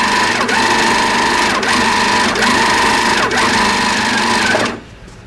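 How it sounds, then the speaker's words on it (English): A TruStitch stitch-regulated sewing machine runs fast and loud as fabric is moved under the needle, a continuous close mechanical whirr with rhythmic pulses, stopping abruptly near the end. "now we've got stitching all over the place because I'm actually out stitching the stitch regulation"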